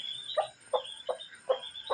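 A hen forages with her chicks, giving five soft, evenly spaced clucks close by against a faint background of high chick peeping.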